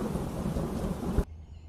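A cartoon jungle thunderstorm pours heavy rain with a deep rumble of thunder, loud and steady, before it cuts off abruptly into near silence.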